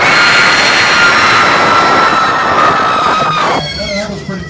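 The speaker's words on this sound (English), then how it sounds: "All right, scream loud, loud, loud." Riders on a train ride at Six Flags Over Texas scream loudly together in a sustained, close roar of shrieking voices that drops off toward the end.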